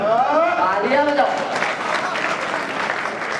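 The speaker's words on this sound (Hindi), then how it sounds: "तालियां बजाओ।" Audience applause at a Hindi comic poetry recital, a steady wash of clapping filling the room for a few seconds after a spoken punchline, with the speaker's voice briefly heard at the start.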